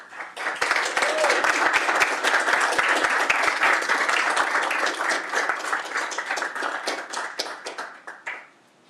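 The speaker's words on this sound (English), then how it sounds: "One more round of applause for Sean." Audience applause for an award presentation at a school board meeting, dense steady clapping from a roomful of people that swells, holds for several seconds and then tapers off, fairly loud and close.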